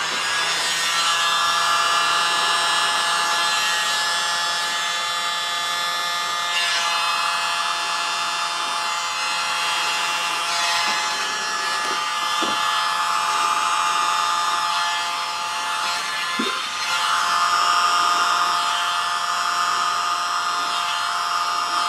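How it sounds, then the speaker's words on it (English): A small electric blower with its tip removed runs steadily while blowing across wet paint in an art technique, a loud continuous whirring hiss that holds nearly even throughout with slight changes in pitch, and no speech. "smallest blower. I've taken the little tip end off just to give it a little more, so it won't be so direct, you know, concentrated blow."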